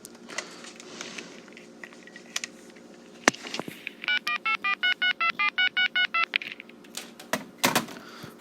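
A Southwestern Bell FM-2552 corded trim-line telephone dialing in touch-tone, a quick run of about a dozen evenly spaced DTMF beeps, clear and close, bracketed by scattered button clicks and handling knocks.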